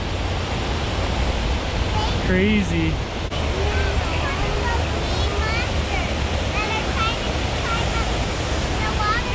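A waterfall pours into a rushing river in Utah in November, a loud, steady roar throughout, with a short spoken exclamation and some faint high chirps over it.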